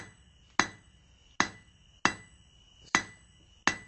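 Blacksmith hammer blows drawing out a 3/8 inch square bar to a point for a small fire poker, five sharp ringing strikes in a steady slow rhythm, close and clear with a faint hum between.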